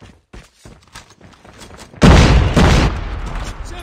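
A Semtex grenade explodes in Call of Duty Mobile, a single loud booming blast midway that rumbles and decays, following quieter game sounds and brief voice callouts.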